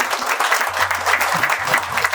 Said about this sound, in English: I request a big round of applause